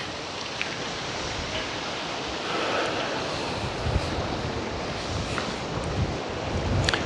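Wind gusting along the coast of Korčula island, a broad steady rush and buffeting on the microphone with faint surges, no voices.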